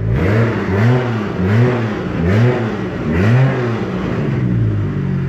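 A tuned car engine fitted with a Tomei exhaust manifold revs repeatedly, four or five loud, close rising-and-falling blips in a steady rhythm, with no talking.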